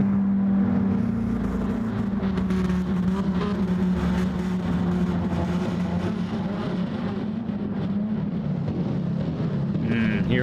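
Race car engines roaring in a Gran Turismo 7 daily online race, a loud steady drone of many engines with a sustained low hum throughout, a voice faintly underneath.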